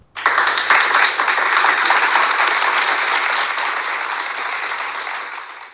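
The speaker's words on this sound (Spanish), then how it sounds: "Aplausos, por favor, producción" Applause sound effect in a Spanish-language philosophy podcast: a steady, full wash of crowd clapping that swells in quickly and holds evenly for several seconds before tapering slightly.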